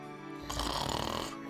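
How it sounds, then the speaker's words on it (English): A sleeping prince snores in the Final Fantasy video game, a single synthesized, buzzy snore swelling for about a second, then cutting off abruptly. "Man, this prince has a weird snore."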